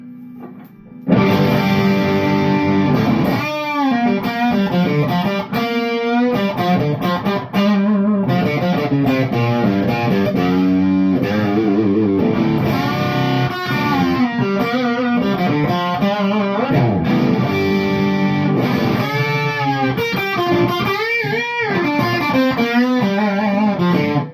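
A distorted electric guitar, a Telecaster, plays continuously through an amplifier, loud and close, with thick chords and bending notes.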